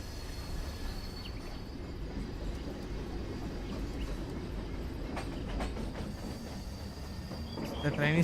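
An Indian express passenger train in a railway simulator game rolls along with a steady low rumble and faint rhythmic clatter of wheels, the noise swelling toward the end.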